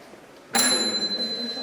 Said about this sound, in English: The first and last minute will be indicated by a bell.